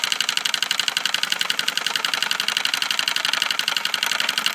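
A small homemade steam engine, losing heat as it runs, chuffs in a fast, steady, even rhythm of sharp mechanical beats. The sound is close and fairly loud, with no voices.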